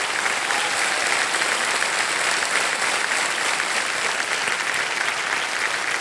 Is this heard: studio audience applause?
yes